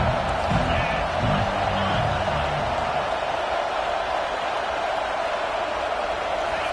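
A stadium crowd at a football game roars continuously, a broad, loud wash of cheering with an announcer's voice audible over it early on.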